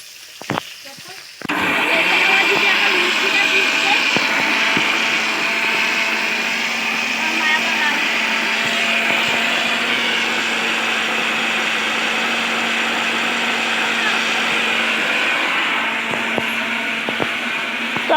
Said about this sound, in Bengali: এই যে সর্ষে বাটা হচ্ছে এখানে তরকারিতে দেওয়া হবে